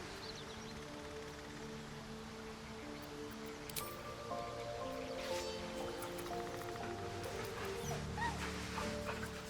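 A dog in the video game Baldur's Gate 3 whimpers and yips softly, a series of faint whines and short cries over quiet ambient game music.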